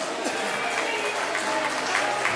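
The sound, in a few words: audience applause at a birthday party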